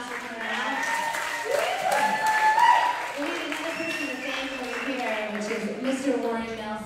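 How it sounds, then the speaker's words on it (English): A concert crowd at a small theatre applauds steadily for several seconds, clapping and cheering, while a voice talks over the sound. "Everybody give yourselves a round of applause for coming out."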